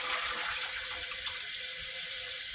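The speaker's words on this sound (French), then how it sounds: "Je vais verser de l'eau dans le marmite comme ça là." Water pours steadily from a container into a cooking pot while making rice, a continuous splashing hiss with no voices, close by and moderately loud.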